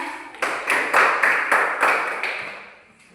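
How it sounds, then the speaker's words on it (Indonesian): A classroom of students claps together in a short burst of about eight rhythmic, evenly spaced claps that fade out near the end. "Tepuk tangannya."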